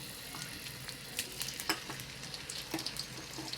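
Prawns fry in hot oil in a wok, giving a steady close sizzle with scattered sharp crackles and pops and no voices.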